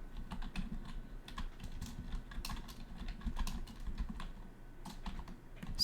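Fingers tap rapidly on a computer keyboard, an irregular run of sharp clicks close to the microphone that continues without pause over a low background hum.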